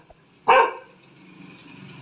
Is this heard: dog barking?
yes